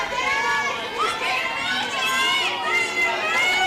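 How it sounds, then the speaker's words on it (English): A cheering section of fans at a 2019 18U fast pitch softball game, Benicia Outlaws against Hillsboro Diamondbacks at the Western Nationals, keeps up a steady stream of excited voices and chatter, including children, from nearby. "Good cheering section for these teams."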